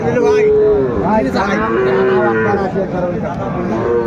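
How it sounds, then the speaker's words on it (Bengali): Cattle, young bulls and heifer calves, moo loudly and repeatedly at a livestock market, long drawn-out lowing calls overlapping one another amid a busy crowd murmur. "ও অসাধারণ গরুগুলো"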